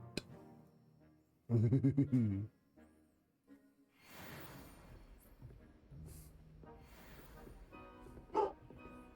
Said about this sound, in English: The puppy is barking.